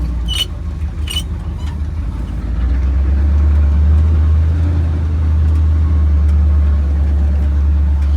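1969 Dodge Power Wagon with a 440 engine driving around a yard: a steady low engine rumble that swells and holds loud and close, with a few faint clicks early on.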